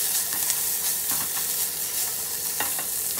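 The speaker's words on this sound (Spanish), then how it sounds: "Seguimos sofriendo." Taco soup base sautéing with adobo seasoning and garlic powder in a pan over high heat, a steady close sizzle with scattered stirring scrapes throughout, no voices.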